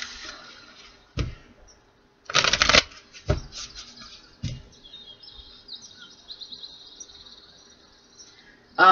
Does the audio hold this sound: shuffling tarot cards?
yes